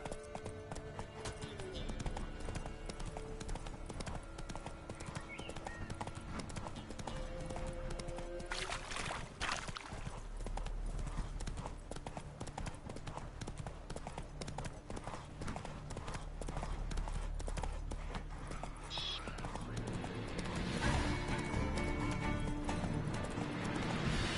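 Horse galloping in the video game The Witcher 3, a steady rapid clip-clop of hooves running throughout over game music and ambience, with a voice speaking at times.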